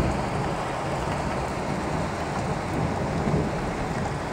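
Heavy thunderstorm rain pours in Grootebroek as a dense, even hiss, with low rumble underneath and no distinct thunderclap standing out.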